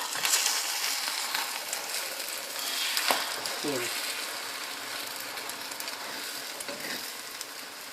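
An omelette sizzles steadily in a frying pan throughout, with a brief scrape and soft clatter midway as it is turned over; a voice speaks faintly underneath.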